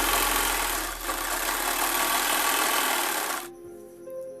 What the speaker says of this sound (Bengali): তারপরের পার্টটাকেও আমি এরকমভাবে সাইডে সেলাই করে জড়িয়ে দিচ্ছি